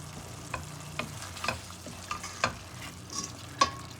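Beef and vegetables fry in a pan for vegetable beef fried rice, a soft continuous sizzle broken by sharp scraping and clacking strokes of a utensil stirring at irregular intervals, fairly quiet and close.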